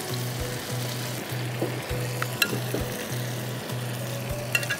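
Butter and spices fry in a pan for butter chicken biryani, giving a steady sizzle with a low hum that cuts in and out in a regular rhythm, plus a few sharp clicks. No one speaks.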